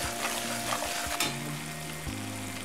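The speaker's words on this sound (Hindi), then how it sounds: "अच्छे से हिलाइए, थोड़ा सा नमक डालिए, अच्छे से मिला लीजिए" Chana saag is stirred with salt in a hot frying pan, a continuous close sizzle with soft scraping strokes of the spoon and no talking.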